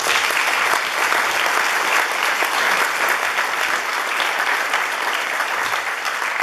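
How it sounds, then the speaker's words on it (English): An audience at an award presentation applauds continuously, a dense, steady clapping from many people indoors that fades slightly toward the end. "You can clap for the food"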